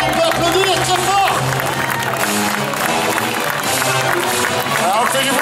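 Large outdoor rodeo crowd applauding and cheering a race winner, a dense, steady roar of clapping and voices with an announcer talking over it throughout.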